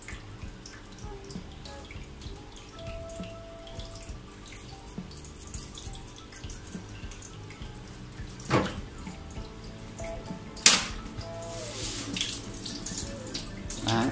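Tap water running in a sink while a dog is rinsed, a soft steady trickle and splash close by with a few sharper knocks and splashes, no talk.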